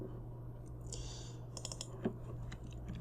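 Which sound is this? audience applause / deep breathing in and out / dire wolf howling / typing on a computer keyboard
typing on a computer keyboard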